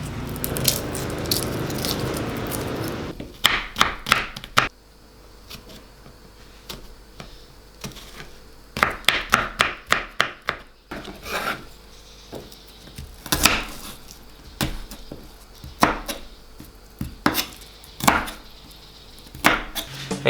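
A knife chops a large, very mature garlic bulb on a board with quick bursts of sharp taps in irregular runs, close and clear, and pauses between the runs.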